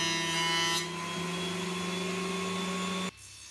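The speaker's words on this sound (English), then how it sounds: "I was planing with the grain when putting these through the thicknesser to get rid of the saw marks." Wood pieces run through a thicknesser to plane away saw marks: a loud, steady machine drone with a bright whine that shifts pitch slightly, then cuts off abruptly near the end.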